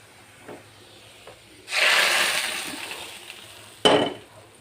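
Hot tempering of onion and garlic fried in oil is poured into cooked dal and hits it with a sudden loud hiss that fades over about two seconds. A second short sizzling burst follows soon after.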